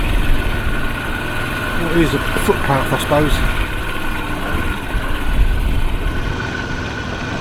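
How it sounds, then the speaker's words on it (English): Honda C90 motorbike engine droning steadily close by while riding a rough countryside track, with someone speaking briefly over it. "you get frowned on, don't you, when you're riding your motorbike on a"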